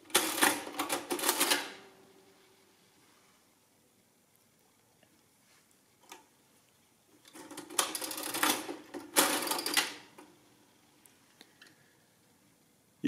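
A mechanical Barrett adding machine being worked by hand, with bursts of rapid clattering key and lever strikes separated by quiet pauses, loud and close.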